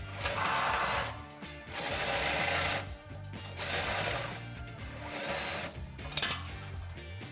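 A 13 mm socket on an extension, driven by a ratchet or power tool, removes the bolts of the exhaust mount behind the muffler on a 3.6 Jeep Gladiator JT; steady close mechanical whirring and clatter in long bursts with brief pauses.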